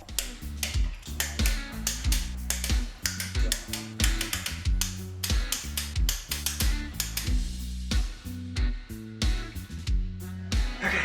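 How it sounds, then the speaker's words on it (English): A torque wrench clicks repeatedly while an Audi A4 engine and transmission are being assembled in a garage, giving sharp, close mechanical ticks in quick irregular bursts with some clunking between them. "I've been told that the torque clicking sounds is ASMR for the ears."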